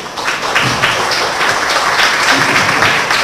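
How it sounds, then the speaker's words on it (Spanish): An audience at a protocol workshop gives loud, dense applause, continuous and close for the full length, with no talk over it. "Por favor, un fuerte aplauso."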